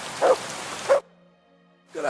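Two short barks from a dog in the Kingdom Come Deliverance II video game, spaced about half a second apart, followed by a near-silent pause and then a resumed ambient bed.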